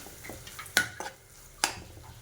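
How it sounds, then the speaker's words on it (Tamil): A spoon scrapes and stirs mushroom curry in a frying pan, a few distinct clinks and scrapes over a faint sizzle. "நல்லா கிளறி விட்டுருங்க"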